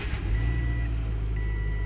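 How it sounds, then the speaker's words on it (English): A 2005 Subaru Forester engine idles steadily after its alternator and AC belt were replaced, a smooth low hum with no squeal, joined by faint high beeping tones partway through. "I'm gonna start the car and see if the belt helped."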